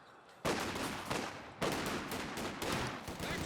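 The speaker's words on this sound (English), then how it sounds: "MG42 doing some weird, like, super short bursts there." An MG42 machine gun in the video game Company of Heroes 2 fires three short staccato bursts in a row, loud and close, with a little battle noise between them.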